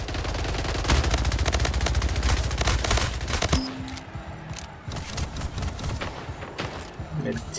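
Rapid bursts of gunfire from a mid-range power weapon in the Splitgate arena shooter, loud and dense shots in the first half, then sparser shots and thuds. A voice talks over the firing.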